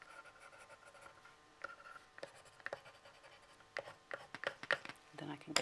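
Pencil scratching and scribbling across watercolour paper while drawing around painted leaves in a mixed-media piece, a run of close, dry strokes that grows busier and louder toward the end.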